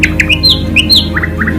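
A cartoon bird gives a run of loud, close squawks and chirps, about eight short calls in quick succession over a low steady background hum, no speech.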